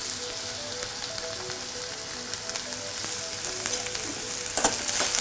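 Curry leaves sizzle and crackle in hot oil alongside a prawn, egg and okra curry, a steady close frying hiss with small pops throughout, no talking.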